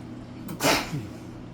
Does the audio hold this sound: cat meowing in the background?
no